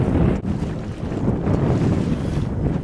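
Strong wind buffets a microphone aboard a moving motorboat, a dense, steady roar with low rumbling gusts and rushing water underneath, close and loud throughout.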